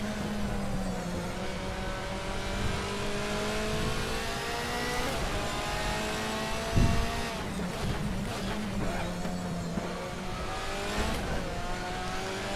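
Layered engine howl from DTM touring cars, BMWs chasing an Audi, lapping the Hungaroring in a racing game. Revs climb and drop through gear changes for the whole stretch, with a short knock partway through.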